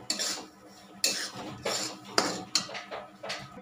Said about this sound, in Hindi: मीडियम आंच पर इसको हम भूनेंगे, ना ज़्यादा तेज करेंगे ना ज़्यादा कम करेंगे।